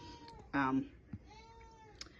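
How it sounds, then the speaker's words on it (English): A house cat meows once for attention, clear and fairly close in a quiet indoor room, followed by a couple of soft short sounds. "There's my cat trying to get my attention."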